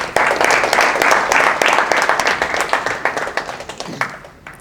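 Applause at a chartered accountants' annual general meeting in Singapore, a full burst of clapping that thins out into scattered claps toward the end, with some voices mixed in.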